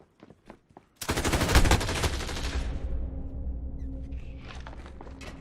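Video game gunfire opens with a few faint taps, then a loud sustained burst of rapid shots that gradually thins into lingering rumble and scattered smaller sounds.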